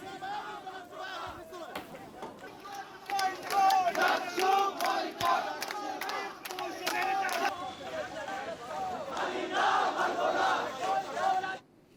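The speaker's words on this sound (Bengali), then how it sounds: "নির্বাচনে অনিয়মের অভিযোগে রাতে ক্যাম্পাসে বিক্ষোভ মিছিল করে ছাত্রদল।" Student protesters marching on a university campus at night, a crowd chanting slogans in rhythmic, rising and falling unison, moderately close, with shouts over the group before it cuts off abruptly.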